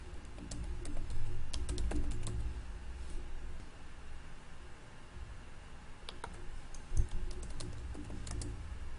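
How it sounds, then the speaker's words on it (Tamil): Typing on a computer keyboard during an Android training session, with clustered bursts of clicking keystrokes in two main runs over a low steady room hum, fairly close and moderately loud. "இங்கே வந்து நம்ம பேரை டைப் பண்ணிக்கலாம்."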